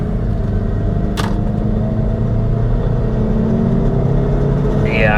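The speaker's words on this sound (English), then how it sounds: "You can hear that spark knock, man." A boosted Saab 9-3 turbo engine running on 87 octane, with low oil pressure, drones loudly and steadily close by as it revs. A single sharp click cuts in early, and a faint whine rises at the end.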